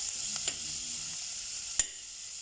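Dry fish chutney fries in a pan, a steady high-pitched sizzle held close throughout, with a few faint knocks and one sharp click of a utensil.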